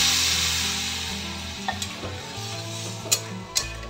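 Potato curry sizzles loudly in a pan on a gas flame at full heat as water is poured in, steady frying hiss with a few sharp clinks and scrapes of a spoon stirring near the end.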